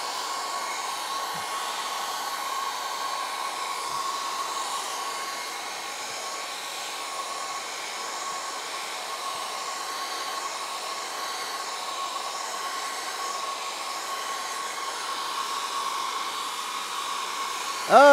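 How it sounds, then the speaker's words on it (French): A hair dryer whirs steadily with a constant airy drone for the whole stretch, no voices, ending in a brief click. "il y avait une position intermédiaire sur mon sèche-cheveux"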